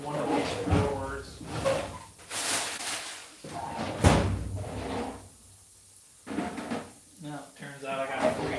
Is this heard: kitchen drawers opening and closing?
yes